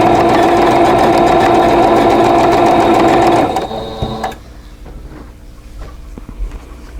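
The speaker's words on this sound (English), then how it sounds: "So I'm going to go ahead and sew these together in units of 2." Sewing machine chain piecing quilt block units, a loud steady run of fast stitching for about three and a half seconds, then stopping, followed by quiet handling noises.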